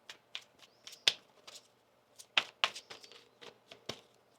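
Tarot cards being shuffled close by, soft scattered riffles and sharp snapping clicks of card edges in small bursts with quiet gaps between, faint and without talking.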